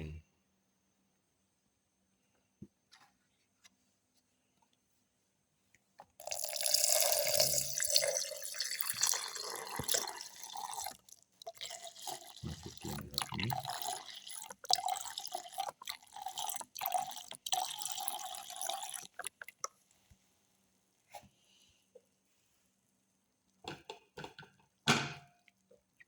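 Liquid pours into a blender jar holding plum pieces for a cardamom plum raisin milkshake, a close splashing, gurgling stream that lasts several seconds before trailing off into drips and small knocks.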